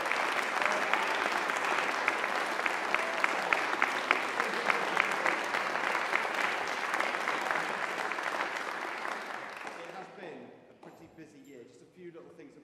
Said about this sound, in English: So can we give them, pupils and the staff, a big round of applause?